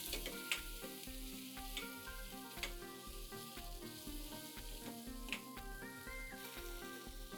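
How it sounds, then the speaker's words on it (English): Onions, ginger, garlic and green chilies sizzle steadily in a pan for methi dal, a quiet continuous frying hiss beneath rhythmic background music. "And saute this till the raw flavor goes away."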